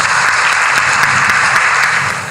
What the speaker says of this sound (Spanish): un caluroso aplauso también al doctor Juan Antonio Hernández Corchete